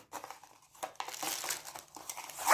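A plastic bag holding a Homefish 300 aquarium pump crinkles and rustles as it is unpacked from its box, with irregular close crackling bursts that grow louder toward the end.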